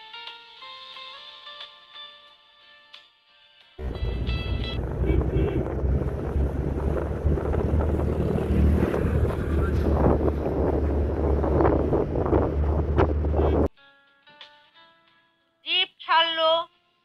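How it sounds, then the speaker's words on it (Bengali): An open jeep races over the Sam sand dunes near Jaisalmer in the Thar Desert, with a loud roar of engine and wind rushing past for about ten seconds, followed by quieter moments and a couple of sharp bursts. "জিপ ছাড়লো, কিন্তু এত জোরে চালাচ্ছে মনে হচ্ছে ছিটকে পড়ে যাব।"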